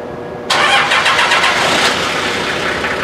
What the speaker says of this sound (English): first thing you're gonna wanna do is fire the truck up